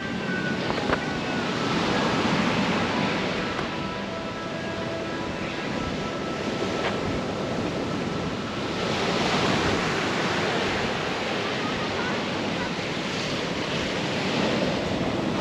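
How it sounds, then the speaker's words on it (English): Waves break and wash steadily onto the beach at Tertsa, Crete, a continuous close roar of surf mixed with some wind buffeting, without speech. "the waves on the beach just next to you"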